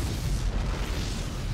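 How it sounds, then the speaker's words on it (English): A tactical nuke lands in StarCraft 2 with a deep, loud rumbling blast that rolls on heavily for the whole moment, dominated by low booming energy. "Well, this nuke's going to land,"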